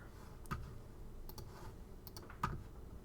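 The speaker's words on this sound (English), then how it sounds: "hitting the I key on the keyboard" A few individual key presses on a computer keyboard while working in Adobe Illustrator, soft close clicks spaced apart over a steady low room hum, with no voice.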